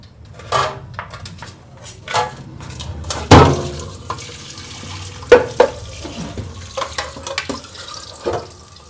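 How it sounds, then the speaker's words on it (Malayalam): Water runs and splashes into a sink in short bursts while a beef tongue is cleaned, with occasional clinks of dishes nearby. "വെള്ളം ഒഴിച്ചോഞ്ചി"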